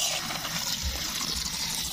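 Water pours steadily through the safety overflow of a toilet cistern, a continuous close rushing and splashing that holds at a constant level.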